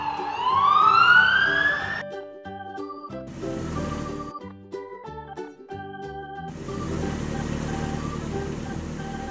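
A short rising siren wail from a toy police car sounds at the start, then gives way to plinking electronic music tones and a burst of noise.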